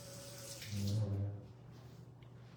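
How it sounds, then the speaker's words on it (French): A hand is washed under a running tap: a short, quiet splash of flowing water lasting under a second, then fading to near silence. "Et là, je vais me laver la main."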